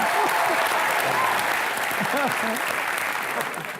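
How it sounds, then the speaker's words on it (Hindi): A television comedy show's studio audience applauds Jeetendra and Tusshar Kapoor, a dense, steady wash of clapping that holds loud throughout and only starts to thin toward the end, with faint voices mixed in. "एक बार जोरदार तालियां जीतू जी और तुषार के लिए"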